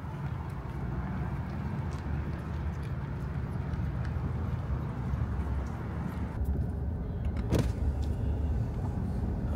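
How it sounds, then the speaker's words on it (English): A car rolls at low speed through the residential streets of a small Arkansas Delta town, its engine and tyre rumble a steady, close drone throughout with a brief sharper knock near the end. "I'm just kind of driving through the neighborhoods here."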